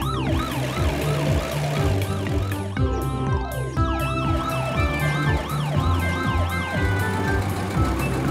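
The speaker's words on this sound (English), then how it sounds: "Look, the ambulance is driving very quickly." An ambulance siren in a children's cartoon about helper cars wails loudly and continuously, its rising and falling tone repeating rapidly over an engine rumble, with no talking.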